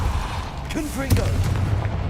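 A Confringo fire spell explodes in the Hogwarts Legacy video game: one loud booming blast rises abruptly and rolls out under the spoken spell name and game ambience.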